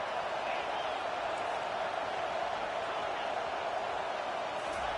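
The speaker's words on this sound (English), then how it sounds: "Decibels rising as the crowd gets behind this defense on third down." Stadium crowd at a college football game in Texas roaring steadily as the defense lines up on third down, a dense, continuous wall of noise with no breaks.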